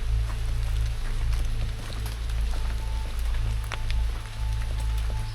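Rain falling in the forest of Thattekad Bird Sanctuary in Kerala, a steady close patter of drops with a constant low hum and scattered brighter ticks, with no voices.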